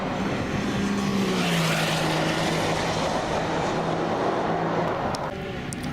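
Race cars in the Gran Turismo game at the GT Academy 2013 International Finals, several engines droning steadily and loudly together with a sustained, slowly shifting tone as they lap, no voices over them.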